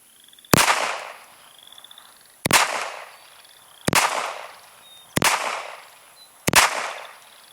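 Five sharp, loud pistol shots from a Beretta U22 Neos at an outdoor shooting range, evenly spaced about a second and a half apart, each cracking and then decaying quickly.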